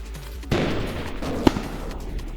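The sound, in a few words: mobility suit firing rockets in Roblox game Build A Boat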